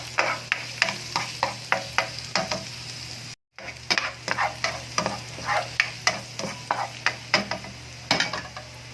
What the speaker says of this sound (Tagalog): Igisahin lang natin konti yan.